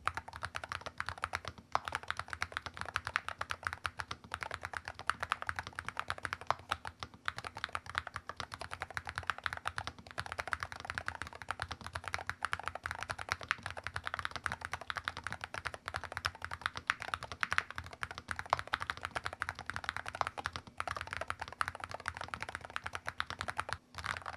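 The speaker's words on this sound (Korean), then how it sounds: "자, 그럼 이제 타이핑 사운드 들어보도록 하겠습니다" Steady, continuous typing up close on a magnetic-switch keyboard, a dense stream of soft, muted key clicks with no pauses and no talking.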